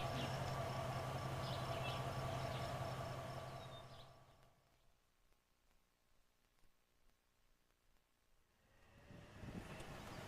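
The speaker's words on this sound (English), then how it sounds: "Train. Did you see this? What? The train there?" A train roars past a small park outside Argyle loudly at first, then fades away into quiet background, with the rumble swelling again faintly at the end.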